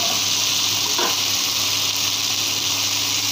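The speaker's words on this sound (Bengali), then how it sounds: "আলু কলা ভাজা হয়ে গেছে, জল দিয়ে দিয়েছি।" Hot water poured into a pan of fried potato and green plantain, producing a loud continuous hiss and steamy sizzle that stays even from start to finish, with no voices.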